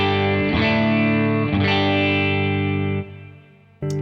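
Electric guitar through a Matchless amp, distorted chords struck roughly once a second, each ringing rich and loud before the sound drops away and a final short strum returns, close and without speech.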